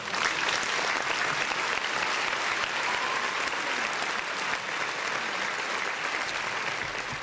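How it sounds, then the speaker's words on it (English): Steady applause from a small group gathered around an office, dense clapping that holds at an even level throughout without pause. "Round of applause."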